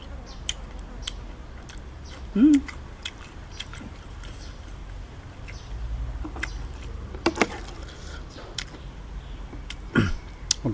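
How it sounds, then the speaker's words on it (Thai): Someone chews grilled pork intestine with papaya salad close to the microphone, giving soft wet crunching and smacking bites scattered across a quiet background, with a short vocal murmur. "เคี้ยวครับ"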